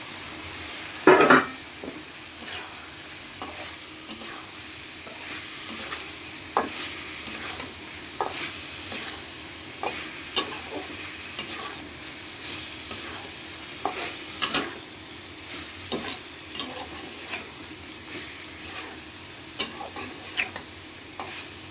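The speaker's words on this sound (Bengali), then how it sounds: "এখন আমি দিয়ে দেবো টমেটোগুলো, দিয়ে দেবো কাটা টমেটো দিয়ে দেবো।" Chopped tomatoes drop into a frying fish curry in hot oil with a loud initial crackle, then a long steady sizzle punctuated by repeated spoon scrapes and clinks against the pot.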